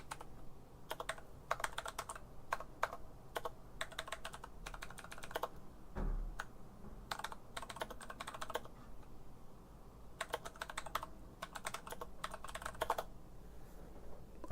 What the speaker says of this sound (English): Oh God, my keyboard's going mental.